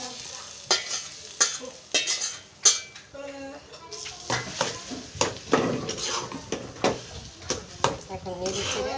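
Spices hiss and sizzle as a tempering hits a pan of heche greens, with a spoon stirring and scraping against the metal in sharp repeated clatters, close and fairly loud, while a person talks over the cooking.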